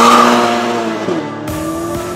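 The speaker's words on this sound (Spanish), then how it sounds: "hoy estamos probando el nuevo Ferrari California Turbo" A 2016 Ferrari California Turbo sports car revs loudly and close by, its engine note rising and falling in a steady, strong drone that runs the whole time, with a brief shift partway through.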